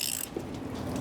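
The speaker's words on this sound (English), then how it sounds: "using my socket and standing out of the way so I don't get too wet, I'm going to remove the drain plug" A socket ratchet turns out the drain plug of a Suburban water heater on a Northern Lite 8-11 truck camper, making short, close mechanical clicks over a steady rushing background.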